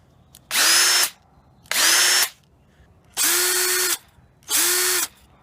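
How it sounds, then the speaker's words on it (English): A Ridgid Gen5x hammer drill runs in four separate high-pitched whirring bursts, each spinning up quickly and cutting off cleanly, with brief quiet gaps between them and the tool sounding close and loud. "the new Ridgid drill is a hammer drill first of all"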